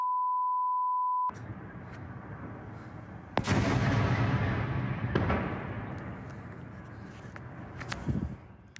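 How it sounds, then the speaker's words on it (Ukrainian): A steady beep tone, then several loud distant explosions rolling out with long echoing rumbles over ongoing background noise, in Donetsk, Ukraine. "Окрім Донецька, вибухи чули також жителі Ясинуватої"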